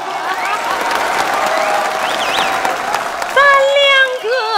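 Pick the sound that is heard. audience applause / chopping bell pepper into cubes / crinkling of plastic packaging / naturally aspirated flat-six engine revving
audience applause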